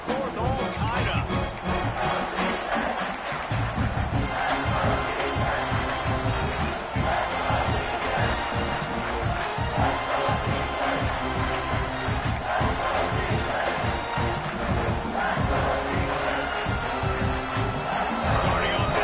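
Stadium crowd in the College Football 26 video game during an LSU versus Ole Miss matchup, a loud, constant roar of cheering and chanting that fills the whole stretch, with commentary voices talking over it.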